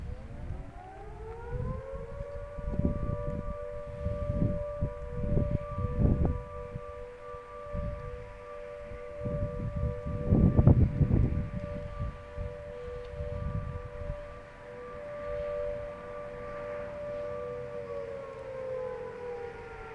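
The Plimmerton fire station siren sounds in the early morning, a long, steady wailing tone that holds and then slowly fades, heard from a distance with rumbling wind gusts and no talking.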